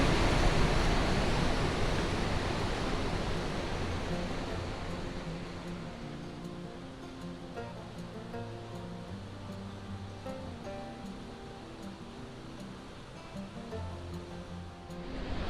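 Steady rushing water roars continuously, a broad wash of fast-flowing river rapids near Hospital Rock in Sequoia National Park, with no voices, slightly louder at the start.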